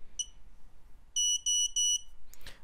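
A Happymodel Mantis85 drone gives a short series of sharp electronic beeps as it arms: one early beep, then several rapid tones in a quick burst, close and clear.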